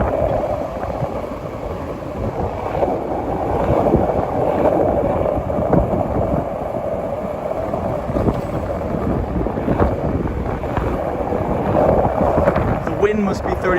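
Strong wind gusting steadily over the river at Pier 88 in Manhattan on a sunny evening, a loud continuous rushing buffet close to the microphone with faint background activity, no clear talk.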